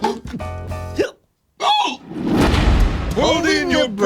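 A puppet character lets out a few hiccups in quick succession, then a pause and more voiced sounds follow, with speech mixed in around them.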